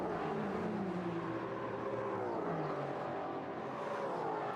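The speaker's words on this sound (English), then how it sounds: "You look at the concrete, you listen to the Mustang, you could almost be at an Australian supercars race given the noise" A Ford Mustang GT4 race car on the Jeddah street circuit, its engine roaring loud and continuous, the pitch sweeping up and down as it accelerates and shifts gears, with no talk.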